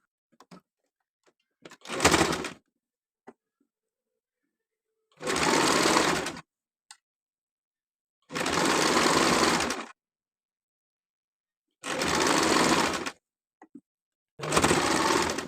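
A sewing machine stitches the folded hem of a simple frock in five separate bursts of steady, fast whirring chatter, each lasting a second or two. Quiet gaps between them carry small clicks and fabric handling.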